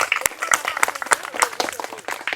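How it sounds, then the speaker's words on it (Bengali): Audience applause for a contestant at a football-skills game show, with scattered claps and crowd noise swelling and fading over a couple of seconds. "আমাদের এই প্রতিযোগীর জন্য একটি জোরে করে করতালি হয়ে যাক"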